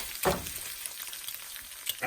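Eggs for huevos rancheros fry in a pan, a soft, steady sizzle close by with faint crackles and one brief louder spatter.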